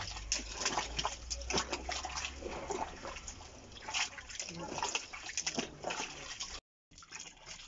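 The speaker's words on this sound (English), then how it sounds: "you see the way we are washing the oil" Extracted red palm oil being washed in water by hand, with continuous sloshing, splashing and stirring close by while people talk over it.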